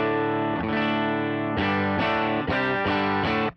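An electric guitar played through a bass-heavy amp model on a Tonex rings out loud, distorted chords, one held chord followed by several rhythmic strums that stop abruptly at the end.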